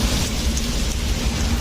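Heavy rain pouring down in a park during a jog, a dense, constant broadband wash of falling water close by with no breaks or voices over its short span.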